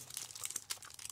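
Close, quiet crunches and crinkles from biting into a crunchy snack, a quick cluster of crisp bursts lasting about a second.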